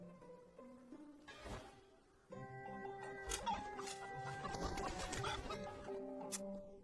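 Chicken clucking in an animated Chinese cultivation fantasy drama set on a mountain, a burst of clucks mixed with dense background music and effects, fairly loud throughout with no talking.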